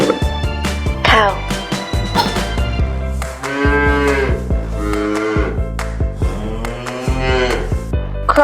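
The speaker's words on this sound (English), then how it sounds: "Cow." A farm cow moos in several long, drawn-out calls over a music bed, loud and close, among a series of toy animal sounds.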